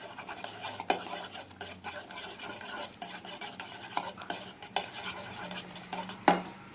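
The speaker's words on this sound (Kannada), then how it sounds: "ಇವನ್ನೆಲ್ಲ ಫಸ್ಟು ಸ್ವಲ್ಪ ಬೀಟ್ ಮಾಡ್ಕೊಳ್ಳೋಣ." Egg, melted butter and cardamom powder get beaten in a bowl for a mango cake, a quick continuous whisking and stirring with utensil clinks against the bowl, close and steady with a sharper knock or two.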